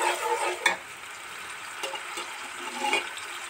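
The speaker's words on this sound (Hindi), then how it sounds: "हमारे प्याज भी माशाल्लाह से लाइट ब्राउन हो रहे हैं" Onions frying to light brown in a pot for vegetable chicken pulao, a steady sizzle with a few sharp scraping stirs and clinks, no talking.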